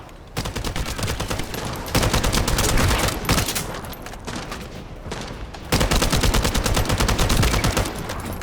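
Sustained bursts of rapid gunfire in the video game The First Descendant, loud and continuous with brief lulls between volleys.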